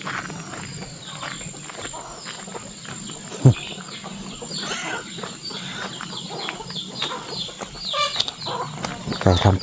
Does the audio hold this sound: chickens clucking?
yes